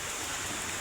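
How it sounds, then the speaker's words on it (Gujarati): Heavy monsoon rain pours down in a windy downpour near a swollen river, a dense, even hiss of falling water with no other sounds. "આવો વરસાદ ચાલુ છે મિત્રો"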